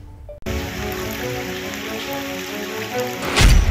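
Heavy monsoon rain pours steadily in flood-hit Mangalore, Karnataka, a dense continuous hiss that starts abruptly and stays loud throughout, swelling slightly toward the end with no voices.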